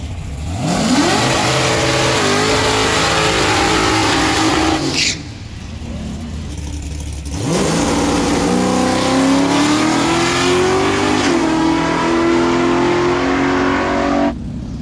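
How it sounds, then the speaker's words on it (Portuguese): A car engine revs hard during a tire-cleaning burnout, loud and close, rising in pitch, cutting briefly, then roaring and climbing again. "agora ele vai ter que dar o burnout pra poder limpar o pneu"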